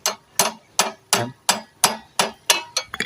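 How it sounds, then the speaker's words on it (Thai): A hammer strikes a gear lever bushing to squeeze its hole slightly smaller, with about ten sharp metallic blows at a steady, brisk rhythm. "บีบนะครับตอกบีบตรงนี้ให้รูมันเล็กลงนิดนึงนะครับ"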